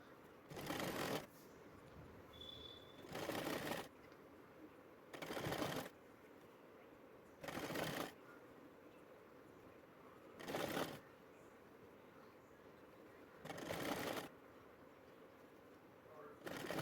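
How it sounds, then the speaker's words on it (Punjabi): A sewing machine stitching cloth for a kachhera garment, running in six short bursts of rapid whirring stitches separated by pauses, quiet and close. "ਕਸ਼ੇਰੇ ਦੇ ਕੱਪੜੇ ਨੂੰ ਆਪਾਂ ਸਿੱਧਾ ਰੱਖ ਕੇ ਸਿਲਾਈ ਲਗਾਵਾਂਗੇ"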